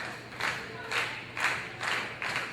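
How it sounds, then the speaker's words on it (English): A wrestling crowd at a Premier Championship Wrestling match claps in five rhythmic, evenly spaced surges of applause and cheering, moderately loud over a faint steady hum. "Crowd coming alive here for Nate Wings."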